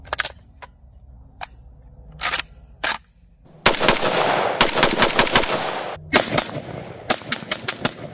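A Valmet M62S rifle fires: a few sharp single shots, then loud rapid bursts of close, cracking gunfire with short pauses between strings.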